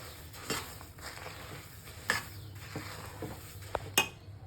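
Sesame seeds being stirred into hot jaggery syrup in a stainless steel pan, with a scattered series of scraping strokes and a few sharper metallic taps over a faint sizzle.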